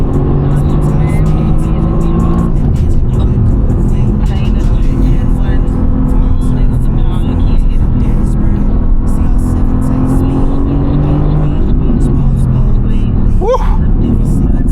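A Mercedes-Benz car engine pulls at full throttle on a race track, a loud continuous roar with rising pitch sweeps, heard from inside the car as someone talks over it.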